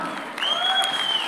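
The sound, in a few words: audience applause at a press event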